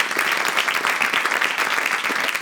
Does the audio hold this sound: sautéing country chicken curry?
no